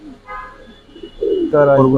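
Pigeons coo softly at a large pigeon farm, low murmuring calls rising and swelling toward the end, close and mixed with nearby voices.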